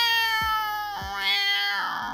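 An angry cat in Roblox Brookhaven lets out a string of loud, drawn-out wailing meows, several in quick succession, close and clear.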